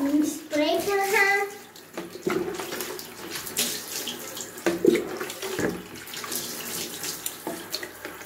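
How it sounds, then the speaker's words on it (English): Water spraying from a tap or shower head as a dog gets washed, a steady hiss that runs through the clip with a voice heard briefly near the start. "before we make her shower, we have like a spray for her"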